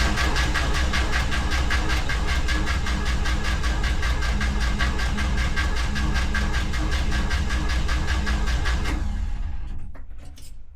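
An International Scout 80 engine, just fitted with a new fuel pump, cranks on the starter without starter fluid. It makes a loud, steady, rhythmic chugging for about nine seconds, then stops abruptly, and no one talks.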